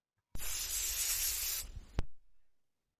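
A steady spray hisses for just over a second as the edges around a bird feeder by a window are sprayed. It ends abruptly, followed by a single sharp click, close and alone.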